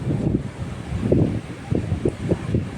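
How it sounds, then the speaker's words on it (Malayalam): Gusty wind buffets the microphone in low rumbling bursts in a small vegetable garden, with a faint rustle behind it. "നല്ല കാറ്റുണ്ട്."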